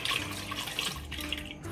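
Tap water runs steadily into a sink to wet a shaving brush, a soft, close splashing hiss with faint drips and no talking.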